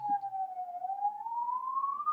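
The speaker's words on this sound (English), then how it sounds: "Sorry about the sirens." A police siren wails steadily outside, a single tone drifting slowly up in pitch, moderately distant and continuous throughout.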